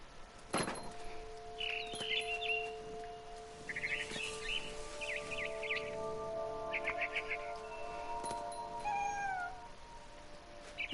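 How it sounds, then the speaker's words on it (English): Barn swallow in What Remains of Edith Finch chirping near its nest, bright short twittering bursts and a rising call scattered among tonal game ambience, with a cat's meow mixed in. "I heard chirping outside my window. It was a barn swallow going back to her nest."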